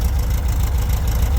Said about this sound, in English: That's one thing about these air-cooled engines.